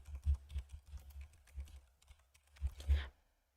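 Quick, close typing on a computer keyboard, a run of soft clicks in an uneven rhythm that pauses briefly before a final flurry of keystrokes.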